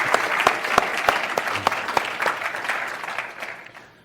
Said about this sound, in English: Let's clap again for ourselves.